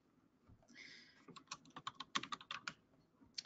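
Quick, uneven clatter of keystrokes on a computer keyboard, close and fairly quiet, with a short pause near the start and the taps speeding up toward the end.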